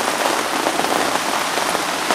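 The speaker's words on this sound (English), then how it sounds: "I think it might be raining," Steady, dense rain patters on a bivvy shelter beside a fishing lake, a close, even hiss of countless drops with no talk.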